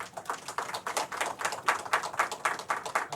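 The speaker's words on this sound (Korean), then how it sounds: "뜨거운 박수." Hearty applause from a church congregation at a Thanksgiving Sunday worship service, dense rapid clapping sustained throughout, fairly close and steady with no speech.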